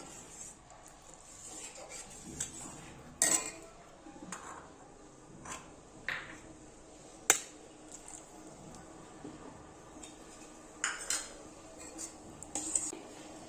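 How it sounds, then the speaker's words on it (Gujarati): A spoon clinks and scrapes against a pot of manchow soup in scattered, irregular strokes, quiet between the sharper taps. "અને ચમચાથી હલાવતા જઈશું એટલે અંદર ગાંઠા ના વળી જાય"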